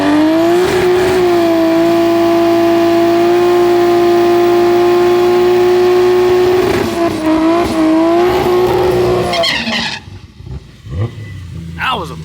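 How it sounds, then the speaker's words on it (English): A Barra-engined Ford GT350 drag car holds a long, loud burnout, its engine droning steadily at high revs with tire noise, then cutting off abruptly before some revving and a voice near the end. "That was a burnout, boy."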